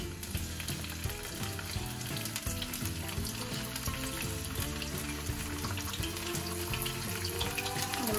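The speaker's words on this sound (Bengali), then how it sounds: "মাছগুলিকে ভালো মতো একটু মানে ভাজিয়ে নিব।" Fish fries in hot oil in a pan, a dense, continuous crackling sizzle that stays close and steady from start to finish, with no one talking.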